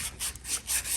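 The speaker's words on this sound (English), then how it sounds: "we're going to take some fine sandpaper here, and we're going to sand off all this corrosion" Fine sandpaper rubbing corrosion off the transmission axle of a Honda snowblower, a steady back-and-forth scratchy sanding in four or five close strokes with no talk.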